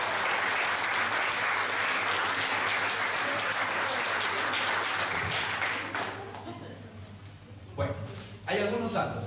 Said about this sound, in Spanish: ¿Acaso no se merece un aplauso nuestro amado?